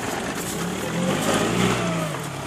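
A Packard car engine revs up and eases off, loud and near, with a steady rumbling drone and no voices.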